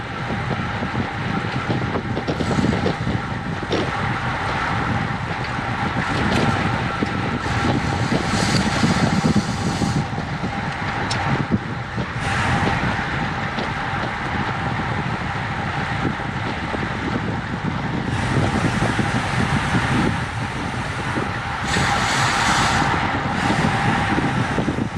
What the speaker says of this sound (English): So the wind is coming from the right and in our face.